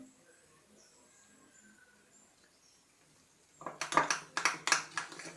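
Vada batter is stirred in a bowl, giving a series of quick, wet slapping and scraping strokes in a steady rhythm near the end after a quiet stretch.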